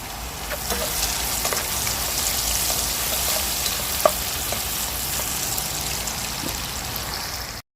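Buckwheat with pork cracklings and garlic sizzles and crackles steadily in a hot pan outdoors, a continuous close hiss with occasional pops and light stirring.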